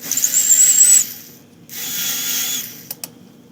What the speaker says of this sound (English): This is called the Trim Pro Dual, I think. Case Prep Duo, and this is also made by Lyman.